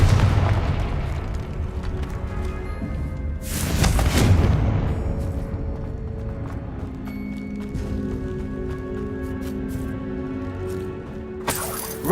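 Confringo fire spell explosion in the Hogwarts Legacy video game, a loud booming blast with a bright burst near the middle, followed by rumbling game sounds and a second sharp burst at the end.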